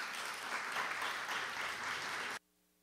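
Attendees at a twinning agreement signing ceremony between municipalities applaud, a loud, even burst of clapping that stops abruptly after about two seconds.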